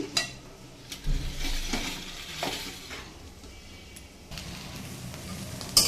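Bitter gourd (karela) fries in a little oil in a pan, giving a soft sizzle broken by several sharp clinks and scrapes of a utensil stirring against the metal.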